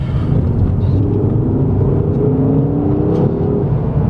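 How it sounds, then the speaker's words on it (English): Ford XR5 Focus turbo accelerating, a steady loud engine drone rising in pitch as it pulls hard, with turbo boost whirring and no grinding noise, heard from inside the car. "Yeah, because I'll accelerate here, you'll hear it all."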